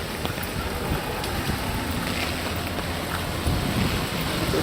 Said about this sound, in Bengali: প্রচণ্ড ঝড়ো বাতাস